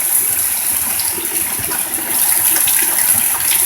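Heavy rain pours down steadily as heard from a porch, a dense, loud, even hiss of water with no letup and no voices.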